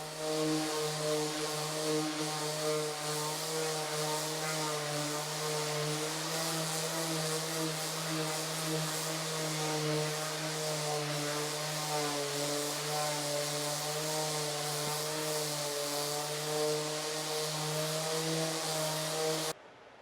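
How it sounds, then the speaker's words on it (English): Wood pieces for a segmented bowl are sanded with a power sander, giving a loud, steady, droning whine that runs nonstop for about twenty seconds and then cuts off abruptly. "I'm going to sand the pieces down to help clean them up and smooth them to prepare them for gluing."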